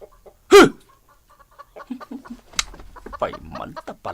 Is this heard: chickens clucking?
yes